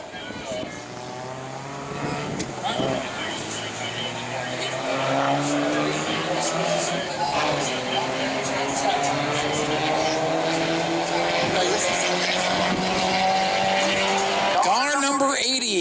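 Bomber class race cars circle the New Smyrna speedway during qualifying, their engines roaring loud and sustained with rising and falling pitch as they pass. A brief tire squeal is heard near the end.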